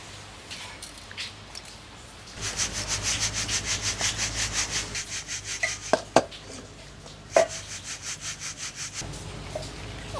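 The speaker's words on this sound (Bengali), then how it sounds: "তো দেখি কতটুকু পাউডার হয়েছে চালনি দিয়ে চেলে নেব" Ground kalai dal powder is shaken through a sieve in a fast, even rhythm of soft rasping strokes, close and fairly quiet, broken by a few sharp taps against the rim.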